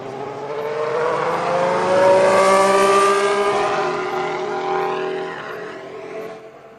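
A 2016 Ferrari Formula 1 car driven by Sebastian Vettel at Barcelona pre-season testing runs at a relaxed pace, its harmonic engine note rising and falling as it passes, loud and steady throughout with no talk.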